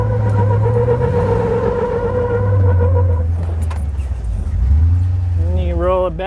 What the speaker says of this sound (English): Sometimes you gotta get the tires warmed up a little bit.